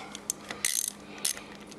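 Socket wrench with a 5/16 socket ratcheting on a Yamaha Grizzly 600 quad, a few short bursts of close, crisp clicking pawl sounds separated by brief pauses.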